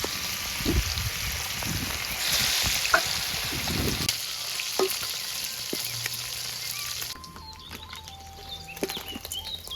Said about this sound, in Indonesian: Goreng lemuru.